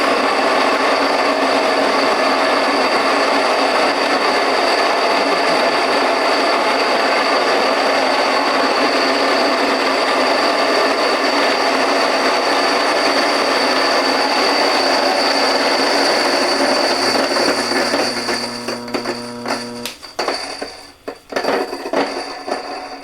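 A grain mill on a coarse setting grinds flour with a loud, continuous grating whir up close, then sputters and breaks up toward the end as the grain runs low.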